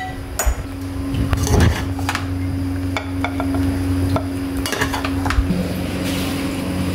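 Mutton dum biryani is served out of the pot, with a spoon scraping and clinking against metal in scattered close taps and knocks over a faint steady hum.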